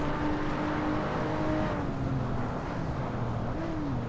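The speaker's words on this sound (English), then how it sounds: "Well, that's a Corvette. Good luck staying ahead of that on the straightaway" A Corvette engine droning past in a racing video game, a loud steady broadband roar with gliding engine tones shifting in pitch, close and continuous with no talk.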